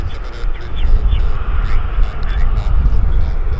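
A business jet taxis at Vancouver International Airport, its engine a steady broad whine and rumble heard from a distance, with people talking over it throughout.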